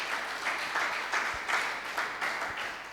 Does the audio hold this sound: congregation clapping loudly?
yes